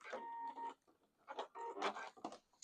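A sewing machine runs in short, stop-start bursts while back stitching a zipper pouch, its mechanical whir close and moderately loud with brief pauses between passes.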